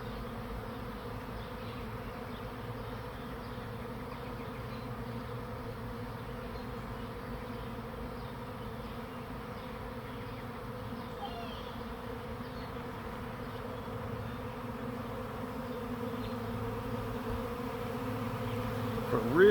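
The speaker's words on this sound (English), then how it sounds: "there's a lot less bees up there and a lot of bees in under the tree now" A massive honeybee swarm settling under a backyard tree near a swarm trap, a dense continuous buzz of many bees, steady and close, swelling slightly louder toward the end with no talking.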